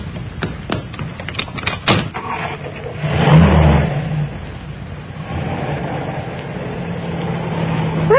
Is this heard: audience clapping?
no